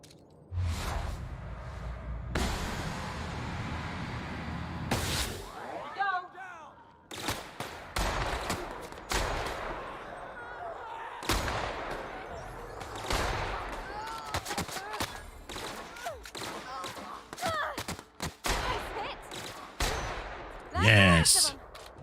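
Gunfire from a sniper rifle in The Outer Worlds video game, with sharp shots and bursts of firing scattered among whooshes and game effects, under intermittent talking from a voice.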